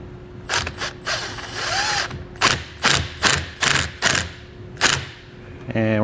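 Hand ratchet tightening the nut on a battery post, a series of close, sharp clicking bursts in an uneven rhythm, with a faint steady hum underneath.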